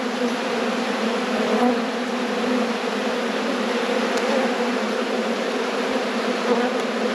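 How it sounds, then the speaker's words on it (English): A dense, steady buzz of many honeybees swarming close around a hive before winter, continuous and loud with no talking. "you can probably hear the amount of bees that are outside around this hive."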